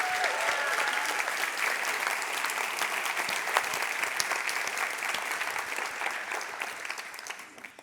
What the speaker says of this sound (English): I really want a big round of applause for Sophie, Lane, Stefan, Alex, Lopke, Elke,